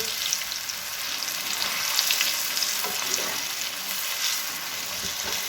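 Green jackfruit koftas fry in a pan of hot oil, a dense, steady crackling sizzle with light stirring and turning, close and fairly loud throughout.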